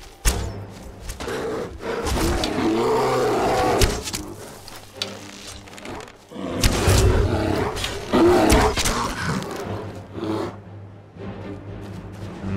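A bear in the video game Skyrim Special Edition roars and growls in two long, rumbling bursts separated by a pause, loud and close, with scuffling noises between.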